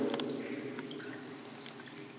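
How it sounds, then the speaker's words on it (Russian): Faint, steady trickle of groundwater seeping between tunnel lining segments, with occasional soft drips, heard alone in a quiet technical tunnel of the abandoned Protvino collider. "Сейчас отчетливо слышно журчание воды."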